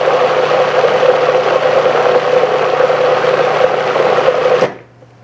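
A kitchen blender whirs steadily at high speed, mixing cream for a quiche filling, a loud continuous motor hum that runs alone for several seconds before cutting off abruptly.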